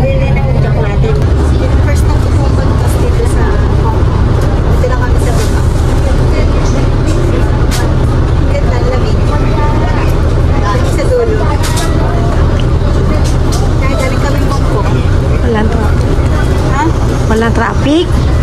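City bus on route 112 to Causeway Bay, Hong Kong, arriving amid loud, steady street traffic rumble and engine noise, with crowd chatter and voices talking over it throughout.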